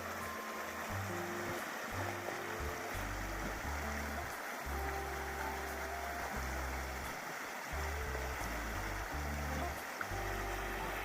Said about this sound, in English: That is the river peeps.